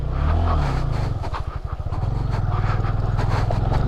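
A small Honda Grom 125 motorcycle putters at low revs while turning around on an overgrown off-road trail, its close, chugging engine rising and dipping with light scraping and rattling.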